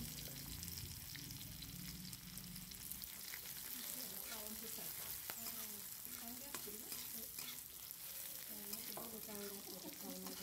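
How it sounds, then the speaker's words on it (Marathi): Paneer bhurji with shelled peas sizzling steadily in a pan, a constant loud frying hiss with scattered spoon scrapes and stirring, close up, with faint voice underneath. "चांगलं परतून घ्यायचं आहे"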